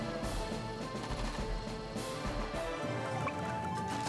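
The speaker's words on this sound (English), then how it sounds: "Yeah, I can shoot this artillery, why not?" Artillery fire in the turn-based strategy game Advance Wars 2, a dense burst of rattling gunfire-like shots with layered game music underneath, fairly loud and steady before thinning out near the end.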